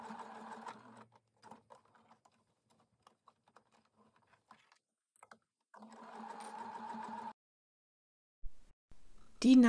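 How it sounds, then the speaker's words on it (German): A sewing machine stitches back and forth to lock a seam on a small fabric card-and-coin purse. It makes two sustained bursts of steady motor hum with rapid needle clatter, separated by a quiet pause with light handling taps. "Ein paar Mal hin und her nähen."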